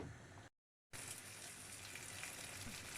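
Onion frying in a little olive oil, giving a steady broadband sizzle with a faint crackle, briefly cut to silence for a moment before the sizzling resumes at an even level.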